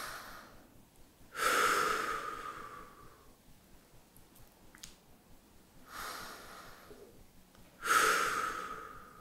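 Gentle nasal breathing during a side-lying glute exercise, three slow audible inhale-exhale cycles at close range, soft and unhurried with quiet pauses between.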